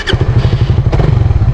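A motorcycle engine thumps in a loud, fast, even pulse up close during a clutch and engine-braking demonstration, with a couple of brief mechanical clacks over the running engine.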